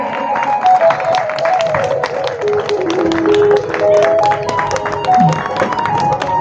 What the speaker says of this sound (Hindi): जोरदार तालियों के साथ इस उद्घाटन का करतल ध्वनि से स्वागत करें।